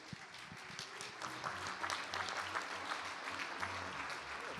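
A crowd at a city's State of the City address applauds the mayor with sustained, dense clapping at steady loudness. Low tones hum beneath it, and no one speaks over the applause.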